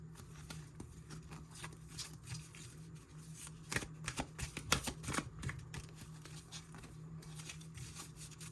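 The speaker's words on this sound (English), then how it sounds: "I will pull some cards from this deck" A tarot-style deck of cards being shuffled and handled in a pick-a-card reading, with a steady riffling patter of cards, a few sharper flicks near the middle, and a low hum underneath; no one speaks.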